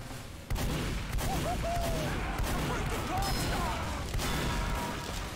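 Rapid gunfire and explosive bursts from a Team Fortress 2 match, dense and continuous after a sudden start, with busy in-game clatter throughout.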